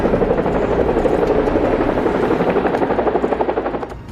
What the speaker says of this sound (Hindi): दोनों हेलीकॉप्टर एक बहुत बड़ी और शानदार हवेली के सामने मैदान में एक साथ उतरते हैं।